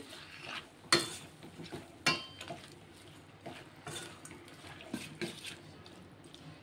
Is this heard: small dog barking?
no